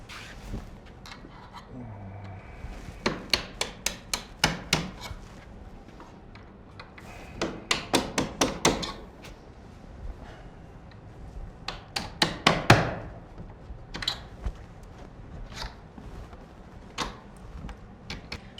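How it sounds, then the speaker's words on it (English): Bursts of rapid metallic hammer taps on a punch driving out door hinge pins, in several quick runs with pauses between, ringing sharply over a quiet room. "you're going to use a punch and hammer to remove the hinge pins from each of the hinges"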